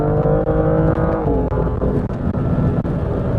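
A BMW M2 engine drones loud and close as the driver downshifts with the throttle held open, the pitch dipping then climbing in a sustained rev.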